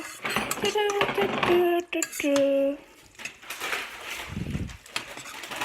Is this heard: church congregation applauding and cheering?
no